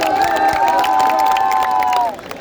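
Loud audience applause and cheering at a student fest, a dense steady roar of clapping and voices with a sustained tonal whistle-like note that cuts off abruptly near the end.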